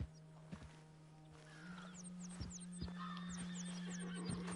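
A horse whinnies and snorts in the Western open-world game Red Dead Redemption 2, with soft hoof clip-clops, a steady low hum and bird chirps in the background.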